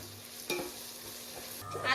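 Onions, green chillies and ginger garlic paste fry in a pan with a soft, close sizzle, marked by a brief utensil scrape and a stir near the end.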